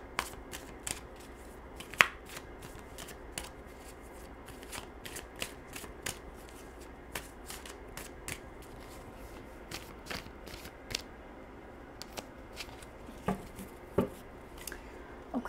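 Tarot cards are shuffled by hand, giving a quiet, steady run of soft riffling and crisp flicks, with sharper taps as cards are squared up, close and with no talking.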